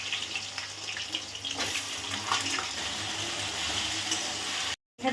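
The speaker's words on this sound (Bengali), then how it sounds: "আলুগুলো লাল করে ভেজে নিই।" Potatoes frying in hot mustard oil over a cumin and bay leaf tempering give a steady, close, dense sizzle that runs throughout and cuts out briefly just before the end.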